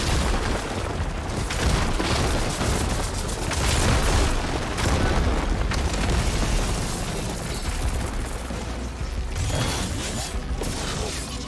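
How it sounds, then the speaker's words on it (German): Heavy booming ballista shots and mechanical thuds roll through dense, continuous battle noise in Horizon Forbidden West, loud throughout with several distinct heavy hits. "Ein paar Schüsse aus der Balliste."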